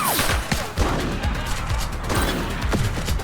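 A suspect's gunshots in the police video game The Precinct, a loud close fusillade of sharp cracks fired in quick irregular succession, echoing off the street.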